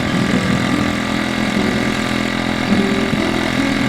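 A tractor engine idles close by at a maple sugarhouse, a continuous low rumble with a constant drone and no breaks.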